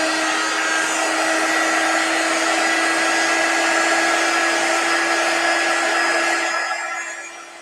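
A hair dryer blows on a chalk stencil on a pumpkin with a loud, steady, close whirring hum and a constant whine. It runs alone for several seconds before being switched off and winding down at the end.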